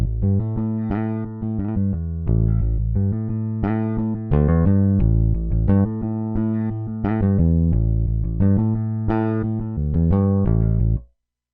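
Slow straight 4/4 classic rock bass groove from Toontrack EZ Bass, plucked notes with audible articulations moving in an even, unhurried pulse, loud and unaccompanied by voices, ending abruptly.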